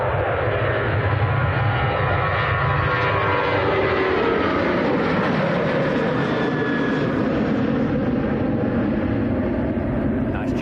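A Ryanair jet charges past at Manchester Airport, its steady broadband engine roar filling the whole stretch at close range and loud throughout, with faint voices underneath.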